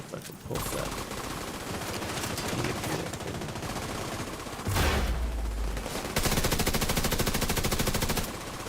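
Sustained automatic gunfire in The Division 2, aimed at an enemy healing station, rattling loud and continuous for the whole stretch, with a heavier burst of firing toward the end.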